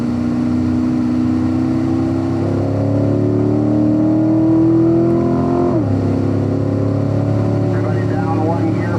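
Chevrolet Corvette Stingray accelerating along a racetrack's main straight, its engine note climbing steadily and then dropping sharply at a gear change before pulling again. An instructor talks over the steady engine drone.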